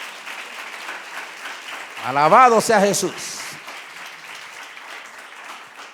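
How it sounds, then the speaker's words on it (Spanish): A church congregation applauds steadily throughout, with a voice speaking over the clapping partway through. "denle un fuerte aplauso al Rey de Reyes"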